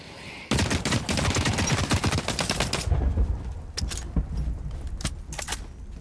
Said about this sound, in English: That gunfire is gonna bring some attention.